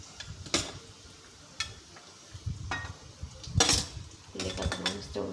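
Finely chopped onions frying in oil in a pan while making karela bhaji, heard as a soft, continuous sizzle broken by several sharp utensil clinks and scrapes against the pan.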